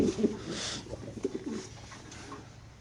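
A large male racer pigeon coos up close, a few low, throaty calls in quick succession.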